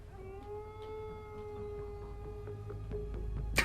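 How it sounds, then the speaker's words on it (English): A long, sustained wolf howl holds a steady wavering tone across several seconds in the video game Metal Gear Solid 2, set over a low ambient rumble, with a sharp click at the very end. "Otacon had his head back when that wolf howl played, and I thought he was just howling like a wolf."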